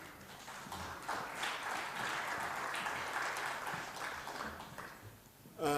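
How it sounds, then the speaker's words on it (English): A conference audience at a side event gives a round of applause, a sustained, moderately loud clatter of many hands clapping that swells early, holds, then tapers near the end. "And a round of applause to them, please."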